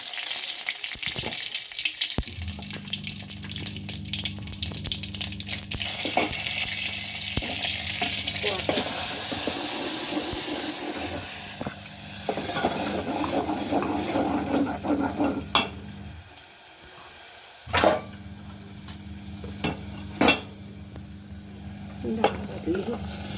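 Mustard seeds, cumin and curry leaves crackle and fry in hot oil in a village kitchen, a steady close sizzle with stirring scrapes, then water running near the end with a few sharp clinks.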